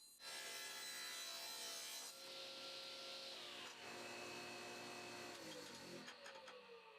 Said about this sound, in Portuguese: Dou uma leve lixada em ambas as peças para suavizar as marcas da lâmina da serra de fita